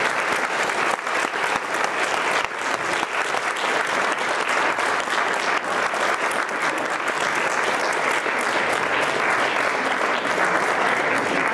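Dense, continuous applause from a large audience at a Christmas proclamation gathering, loud and even throughout with no break.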